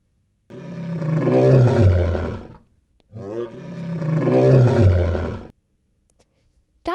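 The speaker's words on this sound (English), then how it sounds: "Lion." A lion roars twice, each a long, loud, deep, rumbling bellow separated by a short silence, close and clear with no talk.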